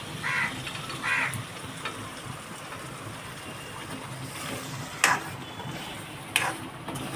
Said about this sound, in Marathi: चांगलं त्याला तेलामध्ये परतून घेते